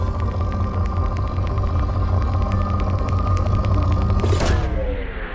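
A probe launches in Mass Effect over a steady mechanical rumble with rapid clicking pulses, ending in a bright rising whoosh near the end before the sound drops away.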